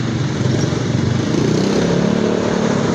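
A motorcycle engine runs loudly and close on a city street in Cagayan de Oro, with a throbbing low drone that rises in pitch midway as it revs and then holds.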